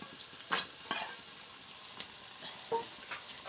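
Potatoes fry in a turmeric spice masala made with desi ghee, a quiet sizzle broken by several irregular stirring scrapes and knocks, close up with no talk.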